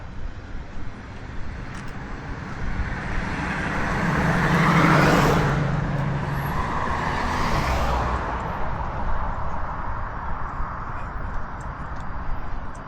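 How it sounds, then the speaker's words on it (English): A run-down car with a straight-pipe exhaust drives past on a Dallas street, a loud raw roar that swells to a peak midway and then fades back into steady traffic noise. "So you got that junky thing with a straight pipe. Makes all kinds of noise."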